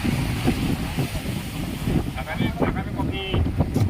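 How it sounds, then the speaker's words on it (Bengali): Steady cold wind off a rough sea buffets the microphone on the shore with broadband rumble, while voices murmur intermittently in the background. "আর এত হাওয়া, ঝোলো হাওয়া, এত ঠান্ডা লাগছে।"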